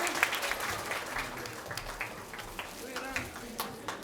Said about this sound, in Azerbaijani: Böyük alqışlar ona düşsün